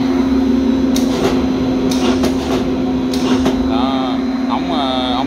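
Cotton fiber blowing machine with a mixing bin running steadily, a loud constant hum with a strong tonal drone, while people talk nearby over it.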